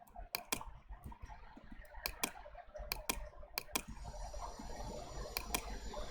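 Faint, close clicks on a computer, scattered in quick pairs and singles over a quiet room background.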